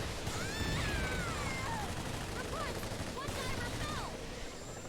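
Video game machine gun fire rattles in dense bursts behind a steady mechanical din, with whistling, sweeping tones crossing over the top.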